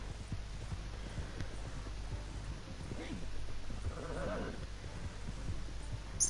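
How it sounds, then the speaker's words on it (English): Horse hooves clip-clopping on the ground with a brief whinny from a female horse in Red Dead Redemption 2, moderate and close, with ambient storm noise behind. "Do you like my lovely female horse called Insanity?"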